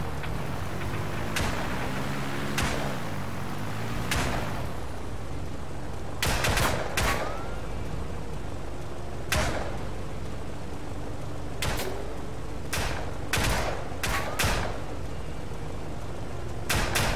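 Bursts of gunfire from the VR shooter Hover Junkers, a dozen or so sharp cracks spaced irregularly over a steady ambient bed, some shots grouped in quick doubles and triples, fairly close and loud.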